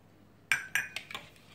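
A spoon clinks against a bowl while sugar and vanilla are stirred in, giving four bright metallic taps in a quick, uneven rhythm, close and fairly quiet, with no talking.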